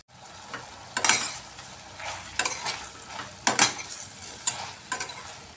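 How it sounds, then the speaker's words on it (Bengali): Cauliflower stalks, with some eggplant, sauté in a pan under a soft continuous sizzle, broken by about six sharp scraping strokes of a spatula spaced roughly a second apart, close and without talk. "আর একটু ভালোভাবে কষিয়ে নিচ্ছি আমি।"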